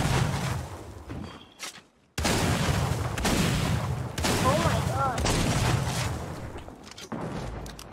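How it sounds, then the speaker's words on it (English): Gunfire in the video game Fortnite, bursts of rapid shots and booms repeating over several seconds, fairly loud, with game players talking over it. "Yeah, I'm shooting him back."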